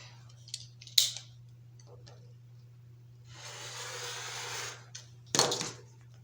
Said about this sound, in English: So I'm just going to cut that excess off really quick.